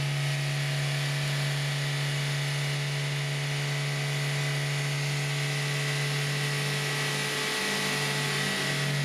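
A Toyota Vios engine held at steady revs around 3000 to 4000 rpm, with a continuous loud mechanical drone and a strong low hum throughout, no voices.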